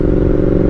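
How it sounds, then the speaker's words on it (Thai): A 150cc motorcycle with a cone exhaust pipe idles and revs loudly up close in neutral with a rough, throbbing rumble, no voices present. "เบิ้ลตัวเปล่าก่อน"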